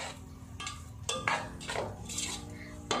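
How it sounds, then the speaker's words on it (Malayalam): A ladle or spoon quietly clinks and scrapes against a pan as rava balls are gently mixed into masala. The taps are soft and scattered over a low background hum. "ഇനി നമുക്കിത് ഉടയാതെ ഇതിനൊന്ന് മിക്സ് ചെയ്ത് കൊടുക്കാം."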